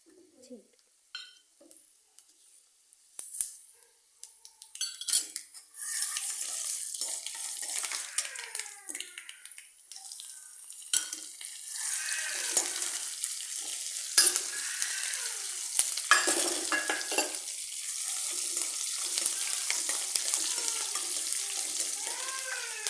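Tempering fried in oil for tamarind rice, a sizzle that starts quiet and sparse and then rises into a steady, fairly close frying hiss, with birds chirping in the background.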